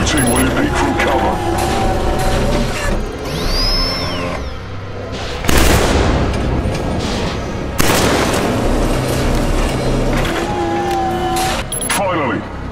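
Heavy gunfire from the shooter game Killzone 3, with several loud blasts and bursts of shots from behind cover, mixed with whooshing effects and a voice talking over parts of it.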